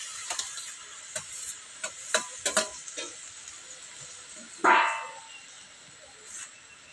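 Cabbage cooking in a pan gets stirred with a few scraping strokes, then fried eggplant is added and brings a brief burst of sizzling before it settles into a soft, quiet frying hiss.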